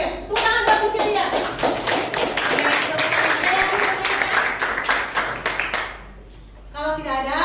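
A classroom group claps together, a burst of many hands applauding near and loud for about five seconds, with a teacher's voice speaking before and after.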